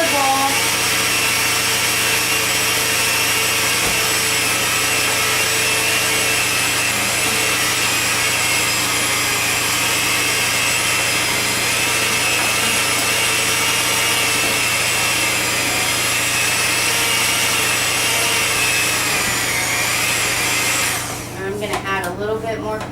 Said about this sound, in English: You want to keep scraping the sides of the bowl.